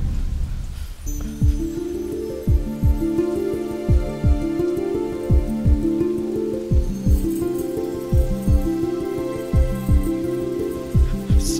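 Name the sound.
rain falling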